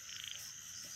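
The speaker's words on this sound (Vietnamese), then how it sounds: "Con ếch à?" A frog croaks in a rural Vietnamese field, a short, steady call heard at a moderate distance against a quiet background, with no talking.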